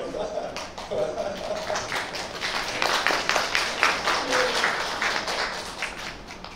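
Scattered audience clapping from students at a popular science lecture on biomedical engineering, a moderate patter of claps rising and falling over several seconds, with faint voices underneath.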